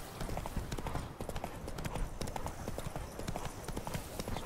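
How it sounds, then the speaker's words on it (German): Horse hooves clip-clop steadily in The Witcher 3, a quick even rhythm of close, distinct hoofbeats across the whole stretch with a faint voice in the background. "Pferd ist immer noch hier."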